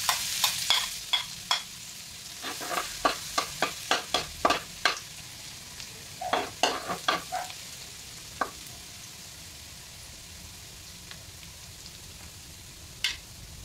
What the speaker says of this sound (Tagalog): Siyempre, makulong na yung mantika. Ilagay na natin yung bawang.